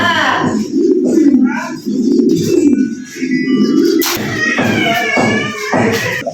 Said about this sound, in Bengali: এখানে সুপার কোয়ালিটির একজন মডানা কবুতর আছে